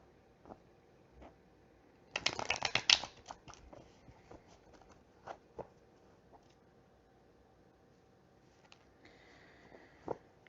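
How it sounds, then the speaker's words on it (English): Oversized Urban Tarot cards being shuffled by hand, a dense burst of riffling flutter lasting about a second, then scattered soft taps and card slides, close and fairly quiet. "These some big cards. That's why they hard for me to shuffle."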